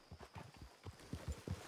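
A horse walks in Red Dead Redemption 2, its hooves clopping in an even, close rhythm of soft thuds on dirt, quiet and alone for under two seconds.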